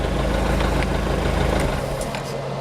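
A Mercury outboard engine on a Bayliner boat idles steadily and close by. It gives a loud, constant low rumble with no breaks.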